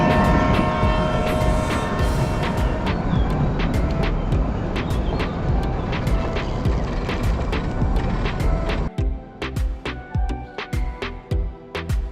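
Kalka to Shimla toy train running in the early morning, a steady loud rumble and clatter of the carriages with sharp metallic clanks, the noise dropping near the end to intermittent wheel knocks and squeals as it slows.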